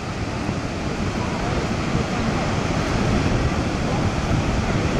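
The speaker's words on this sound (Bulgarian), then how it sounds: "Там всъщност ето тук са два водопада." Niagara Falls on the US side roars as a loud, unbroken wash of falling water, heavy and constant from start to finish.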